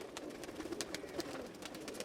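A red Sindoori Palak Heera Lal pigeon coos softly in low, rounded calls at close range, repeating over a steady hum, with no talk.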